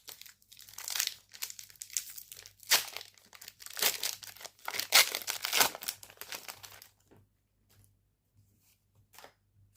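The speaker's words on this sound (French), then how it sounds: "Il nous reste 4 boosters à ouvrir." Lorcana trading card booster packs are torn open by hand, their foil wrappers crinkling and crunching in close, irregular bursts for several seconds before the rustling stops.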